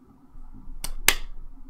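A single sharp hand clap rings out after a fainter preceding clap-like snap, both short crisp bursts in an otherwise quiet room during a tabletop Dungeons and Dragons session.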